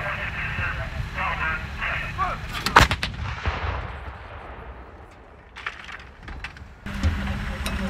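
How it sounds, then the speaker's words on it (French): Artillery piece firing during the Dacian Fall 2025 allied military exercise in Romania, a sharp booming report with crackling echoes, heard amid outdoor talk and background rumble. "une pièce d'artillerie qui est précise, voilà, qui tire toute la gamme des munitions modernes"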